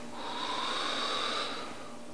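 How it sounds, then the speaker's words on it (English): Slow, deep breath drawn in and let out through the nose and mouth during a relaxation exercise for quitting smoking, a soft airy rush swelling and fading over about two seconds, close and alone. "Again, you're breathing in and you're breathing out deeply."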